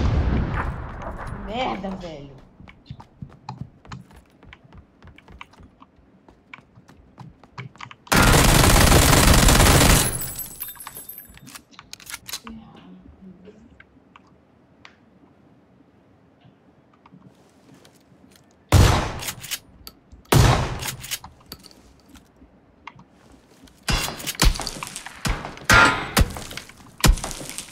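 Bursts of rapid gunfire in burst mode in PUBG Battlegrounds, with loud clustered volleys near the start and several more toward the end, separated by quiet stretches and brief speech.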